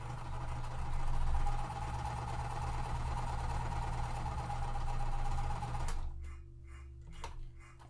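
A sewing machine hums continuously and fairly loudly for about six seconds while sewing quilt pieces, then stops abruptly, leaving quiet handling clicks.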